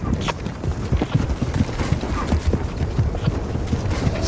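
Horse hooves clip-clop steadily at a riding pace, loud and close, amid a dense wash of outdoor noise, with a horse whinny and faint voices mixed in.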